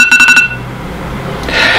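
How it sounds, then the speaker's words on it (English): Kitchen timer set for steeping tea, a quick run of about five loud electronic beeps at the start, then a quieter pause and a brighter hiss near the end. "we'll let that steep undisturbed until our timer dings"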